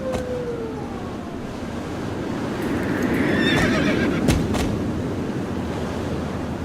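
A horse whinnies loudly amid clip-clopping hooves in the video game Star Stable, while a broad rush like wind or surf swells and fades in the background.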